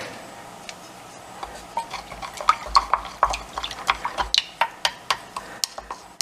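Soft, quick clicking and scraping of a utensil stirring dehydrated sourdough starter with water into a thick wet mixture in a container, the taps speeding into a steady rhythm.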